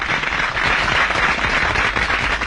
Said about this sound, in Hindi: ये ताली बजाना बंद करो, ये ताली बजाने का वक्त नहीं है।